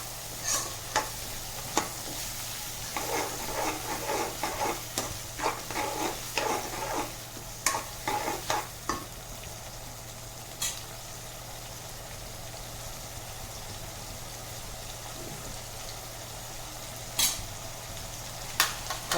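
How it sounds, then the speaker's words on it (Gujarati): Chopped tomatoes sauté with softened onions in a hot pan for Rajasthani daal, giving a steady close sizzle with repeated scraping stirs of a spoon, no voices. "હવે આપણે તેમાં ટમેટાં લઈશું. તેને પણ આપણે 2 મિનિટ માટે સોતળવાના."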